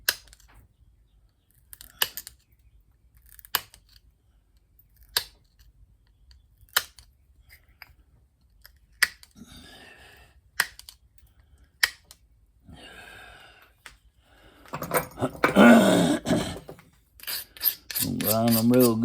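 Stone preform being pressure flaked, with sharp isolated clicks and scrapes spaced every second or two, then a denser burst of grinding and rubbing near the end, close and fairly loud.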